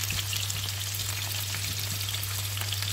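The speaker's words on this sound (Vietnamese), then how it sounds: "Thì mình bắt một cái chảo lên, mình để dầu ăn vô để mình đi chiên cái phần cà gót và khoai tây." Eggplant and potato frying in cooking oil in a pan, a steady dense sizzle and crackle with a constant low hum underneath, close and continuous throughout.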